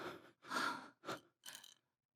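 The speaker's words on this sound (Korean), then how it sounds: "숨소리가 고르지 않아요." Irregular, laboured breathing in a Korean radio drama, four ragged gasping breaths with uneven gaps, close and fairly loud, then silence.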